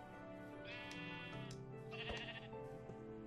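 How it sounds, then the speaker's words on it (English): Sheep bleating in the Minecraft video game, several harmonic bleats over game music, moderately loud and close with no talk. "Oh, I found some sheep."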